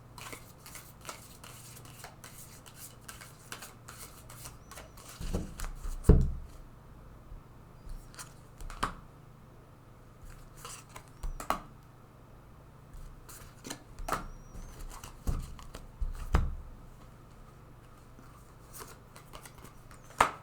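Tarot cards are shuffled and drawn by hand, giving soft intermittent slaps, flicks and papery rustles, with a few sharper snaps spread through a quiet stretch and no talking.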